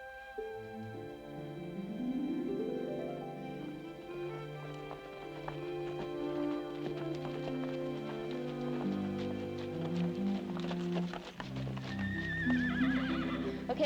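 A Kansas horse neighs and whinnies loudly over steady clip-clopping hooves, with a long rising whinny early and more calls later, close and continuous throughout.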